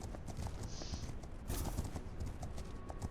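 Horse hooves clip-clop steadily in the video game Legend of Khiimori, a soft, even rhythm of hoofbeats heard up close with no talking over it.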